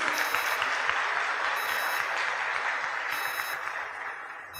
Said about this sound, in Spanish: a la cual le pido un aplauso, Patricia Caro